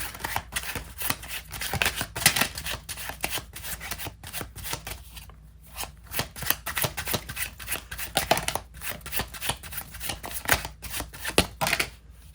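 Tarot cards are shuffled and drawn in a steady run of dense, close papery riffles and soft slaps, continuing almost without pause and with no voice over them.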